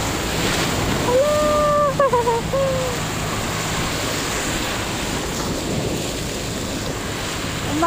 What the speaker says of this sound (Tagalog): Umaalon siya. Humangin.